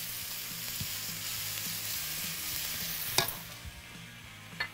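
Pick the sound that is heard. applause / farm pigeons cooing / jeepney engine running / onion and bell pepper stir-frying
onion and bell pepper stir-frying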